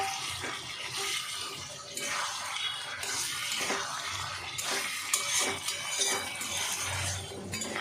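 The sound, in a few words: fried pointed gourd being added and stirred into spices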